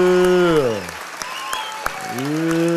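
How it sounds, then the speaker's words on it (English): Church congregation clapping, a crowd of hands that shows through mainly in a brief pause, while a strong, drawn-out voice dominates the opening and returns at the close. "Come on, let's clap for them a little better than that."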